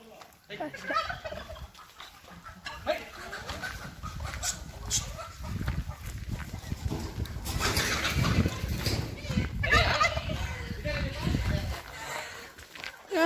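Chickens near a historic temple cluck and squawk in scattered bursts while people talk throughout, with footsteps and general outdoor bustle.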